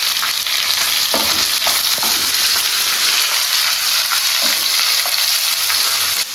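Sliced onions and curry leaves frying in hot oil, a loud, dense, continuous sizzle close by with a few clinks and scrapes of stirring scattered through it, no voices.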